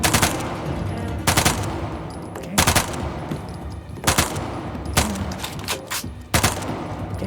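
Gunfire in Uncharted: The Lost Legacy, sharp loud shots and short bursts repeating about every second or so over a background rumble, close by and with no talk over them.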